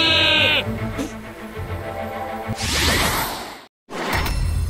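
In the video game Skylanders Trap Team, a loud, close sheep bleat from a Sheep Creep enemy opens, followed by a whooshing swish and clattering effects, a brief silence, then more noise.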